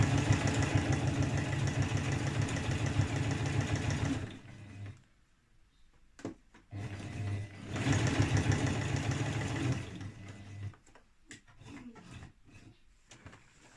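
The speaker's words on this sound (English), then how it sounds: "I'm sewing a jersey fabric onto a stretch woven" A sewing machine stitches jersey fabric onto a stretch woven skirt in two steady runs of about four seconds each, separated by a pause with faint handling noises and a few short bursts near the end.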